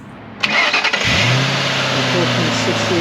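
A 2007 Ford Mustang GT with a low-mileage 4.6-liter three-valve V8 cranks briefly, fires up and settles into a smooth, steady idle, loud and close, after a door or click sound.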